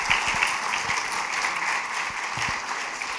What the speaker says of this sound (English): can we all give Alice a round of applause?